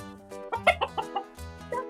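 Bree, a rescued rooster, clucks in a short run of close, distinct calls with brief pauses between them, heard alone without talking.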